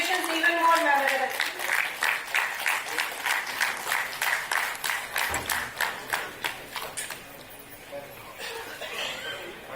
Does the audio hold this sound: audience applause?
yes